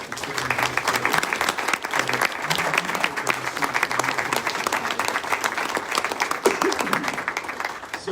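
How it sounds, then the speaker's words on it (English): An audience at an Afghan community event gives a dense, steady round of applause for a speaker, many hands clapping continuously at close range for several seconds, with a voice briefly audible in the crowd. "Let's give Halima a round of applause."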